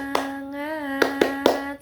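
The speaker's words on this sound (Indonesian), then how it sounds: "Ayo, tepuk semangat." Children in a classroom do a rhythmic spirit clap, with four sharp hand claps in an uneven pattern heard over a sustained chanting voice.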